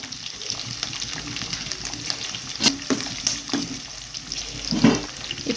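Cumin seeds and green chillies sizzle steadily in a hot pan with ginger while cooking katte pongali, broken by a few sharp spatula scrapes and clinks, close and without talk.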